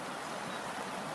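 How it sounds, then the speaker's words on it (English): Steady broadband rush of river rapids and a creek flowing beside a wilderness campsite, constant and close with no breaks, like white noise. "the sound of the rapids and the creek."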